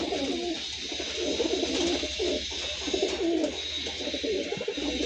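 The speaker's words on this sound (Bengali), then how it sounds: "দেখুন এই একজোড়া পায়রা আছে, এটা কালদুমা পায়রা আছে, আর এটা চিনিশিরা পায়রা আছে।" A pair of pet pigeons, a Kaldum and a Chinishira, coo continuously at close range in soft, throaty rolling phrases, with a faint background hiss and no talking.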